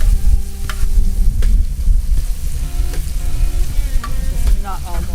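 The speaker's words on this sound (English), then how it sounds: "Cooking onions." Onions fry and are stirred in a pan, a close sizzle with scraping and clatter of the utensil, while a faint tonal background sound plays beneath.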